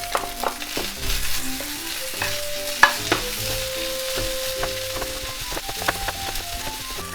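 Chicken fried rice (chahan) with big pieces of egg stir-fried in a pan at home, a steady close sizzle with repeated scraping and tossing strokes and a sharp clack near the middle, no talking.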